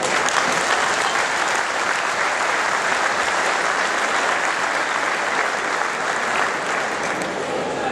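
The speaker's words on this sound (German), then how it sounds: "würde ich Sie bitten, einen großen Applaus für die Züchter zu spenden." Dense, continuous applause from a large crowd honors dairy cow breeders at a 2010 cattle show in Verden. The clapping is loud and even throughout and carries no speech.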